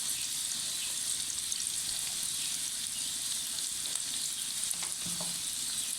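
Bitter gourd fries on high heat in a pan, giving off a steady, dense sizzle with a few faint stirring scrapes. Nobody speaks over it.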